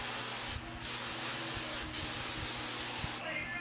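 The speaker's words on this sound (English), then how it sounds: "I'm just spraying some of this thickening spray in it just to add a little more texture to it" Steady aerosol hair thickening spray hissing close by in a few continuous bursts, with brief pauses between them.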